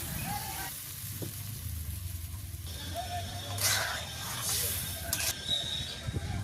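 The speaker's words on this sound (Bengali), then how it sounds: "আর একটু ভাজি করে নিচ্ছি তেল দেওয়ার পরে।" Food frying in oil in a village kitchen, giving a steady, faint sizzle with occasional stirring scrapes and clatter close by.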